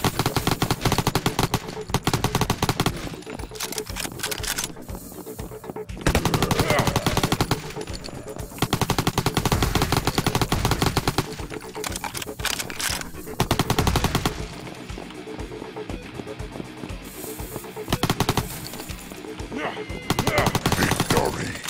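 Machine-gun fire from a zombie defense video game comes in long, loud bursts of rapid shots, separated by brief quieter gaps, with someone talking over the gameplay.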